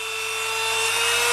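Sheet of paper sawing back and forth through a plastic marker, a steady close rasping scrape that grows slightly louder over a second and a half, with no talk.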